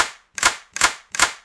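Three sharp mechanical clicks of an empty gun dry-firing in a video game, at an even pace, each a crisp metallic snap with a short tail, separated by near silence.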